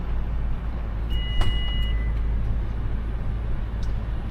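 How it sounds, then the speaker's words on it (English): A powered tailgate on a Toyota Sequoia sounds a clear electronic beep of about one second with a soft mechanical thump, over a steady outdoor rumble of nearby traffic. "we have a powered tailgate"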